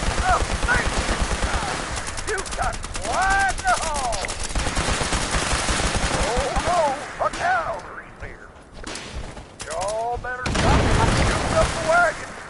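Combat in Fallout 76 with laser rifle and explosive fire, dense rapid bursts of shots and booming blasts overlapping one another, loud and close, with someone talking over parts of it.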